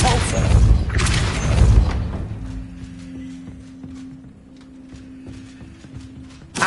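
A Depulso spell cast in Hogwarts Legacy: a loud, forceful whooshing blast that fades into a quieter rumble with faint lingering tones and small knocks.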